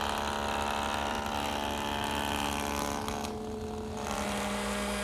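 A router shaper table runs steadily as a 3/8 inch bead concave cutter mills a profile pass in wood, a constant whirring motor tone that dips briefly partway through before continuing.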